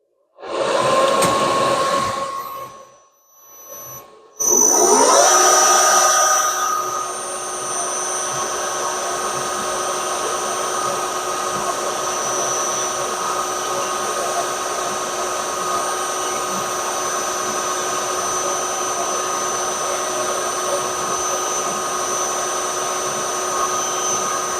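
A small drill bit bores into a model steam engine's valve chest: a short burst, a brief pause, then a steady, close, high-pitched motor whine that runs evenly to the end with no talking.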